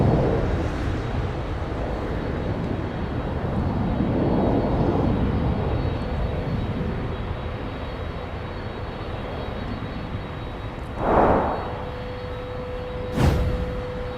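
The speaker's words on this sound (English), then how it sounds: "UPS has arrived from Louisville, Kentucky, and the World Port" UPS Boeing 767-300 freighter arriving from Louisville, Kentucky, a steady broadband engine roar at moderate distance that swells gently and holds, with a couple of brief louder bumps near the end.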